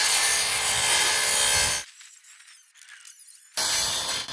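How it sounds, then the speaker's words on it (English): A circular saw, its blade too thick to follow a tight line, cuts curves in wooden boards for a backyard skatepark, giving two loud broadband rasping passes with a short quieter break between them. "Let's see if we can do it with the circular saw."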